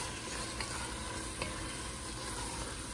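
Biryani masala in a pan gives a steady, dense sizzle under continuous stirring, loud and close, with small scrapes and no talking.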